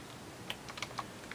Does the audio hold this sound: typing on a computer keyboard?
yes